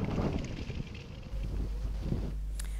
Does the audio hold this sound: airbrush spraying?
no